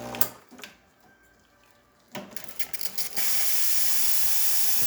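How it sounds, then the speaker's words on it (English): Steam wand on an Expobar espresso machine, after a service, gives a short burst and then settles from about three seconds into a loud, steady, continuous hiss that runs to the end. "The steam nice and strong."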